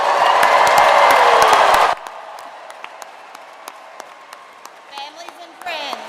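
Loud, dense applause and cheering from a graduation commencement crowd for about two seconds, cutting off sharply, then scattered claps and a speaking voice over a hushed hall.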